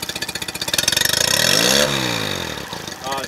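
A Mercury 9.9 four-stroke outboard motor chugs rhythmically near at hand, then revs up in pitch after a gear change and settles back to a steady run.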